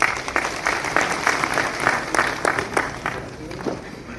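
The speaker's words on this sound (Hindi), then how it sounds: "जोरदार तालियां होनी चाहिए" Audience claps at a lamp-lighting ceremony opening a scholarship workshop in Lucknow, a close, lively round of clapping with distinct individual claps that slowly thins and fades toward the end.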